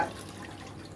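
Water splashes and trickles steadily for about a second as it is poured from a small bowl onto jowar flour, a close, continuous pouring sound with no voices.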